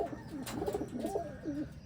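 Pigeons coo in soft, throaty, wavering calls, several overlapping nearby over a low steady background hum.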